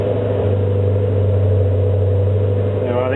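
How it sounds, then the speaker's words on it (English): Maserati 3200 GT engine idling with a warning light on, a steady low hum with a strong even tone held throughout, fairly loud and close, no revving and nobody talking over it. "Now the engine's running"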